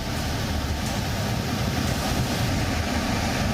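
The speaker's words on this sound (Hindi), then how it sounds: "भारी बारिश के बाद भागीरथी नदी का पानी तेज बहाव कैसे यहां के घाट तक चढ़ जा" Fast-flowing Bhagirathi river in Uttarakhand after heavy rain, its swollen water climbing up to the ghat; a loud, steady rushing roar that continues without a break.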